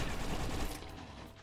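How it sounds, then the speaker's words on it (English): Assault rifle gunfire rattles in a dense, continuous burst in the top-down Zombie Soup shooter game, loud at first and easing slightly toward the end. "now, instead of using a pistol, I'm using an assault rifle"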